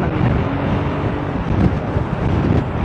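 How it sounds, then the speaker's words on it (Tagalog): Strong, roaring wind buffets the microphone while a Kymco Xciting VS 400 scooter rides along an expressway, a loud, steady rumble of gusts with no voices. "Ang lakas ng hangin."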